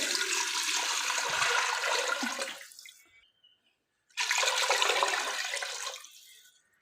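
About two litres of water pour into a pot of fried chicken for a hot and sour chicken soup. Two fairly loud gushing bursts are separated by a brief silence, with no talking.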